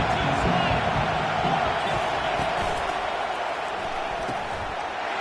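Crowd noise fills a college football stadium, a loud, continuous roar that swells slightly at the start, with scattered thumps and a voice speaking over the din.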